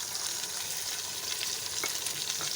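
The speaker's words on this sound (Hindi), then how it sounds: "प्याज को हम लाइट ब्राउन करेंगे।" Onions and tomatoes fry in a pan for baingan bharta, giving a soft, steady sizzle with faint stirring scrapes throughout.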